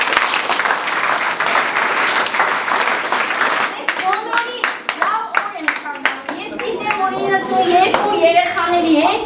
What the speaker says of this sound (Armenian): Ուզում եմ մենք ծափահարենք և այս ծափերով մենք ապացուցենք